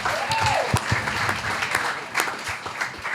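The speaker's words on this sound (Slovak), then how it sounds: "Ešte veľký potlesk Nikolovi za toto vynikajúce vystúpenie." Audience applause at a Slovak-language stand-up comedy show, a steady wash of clapping from the crowd filling the room throughout with a few sharper claps standing out.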